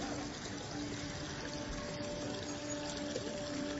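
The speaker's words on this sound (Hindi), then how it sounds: "पानी भरने दो मुझे।" Water filling a container from a tap or pump, a steady continuous rushing gush at moderate level with no breaks and no talk.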